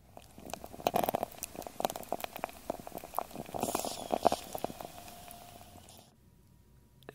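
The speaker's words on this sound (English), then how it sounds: "this is a lot more bubbles than normal. I put the microphone inside the jar to capture these sounds" Dense, irregular bubbling and popping of fermenting makgeolli brewed with extra amylase enzyme, recorded with the microphone inside the jar, which fades to near quiet at the end.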